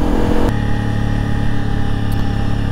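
A Honda CRF 300 Rally motorcycle engine drones steadily and loudly up close while riding on a road, holding a constant note with a slight shift early on.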